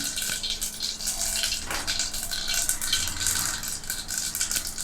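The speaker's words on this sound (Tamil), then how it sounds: "கடுகு நல்லா பொரியுது பாருங்கள்" Mustard seeds splutter and pop in hot oil in a pan while cooking baby corn masala gravy, a continuous crackling sizzle with scattered sharper pops, close and fairly steady throughout.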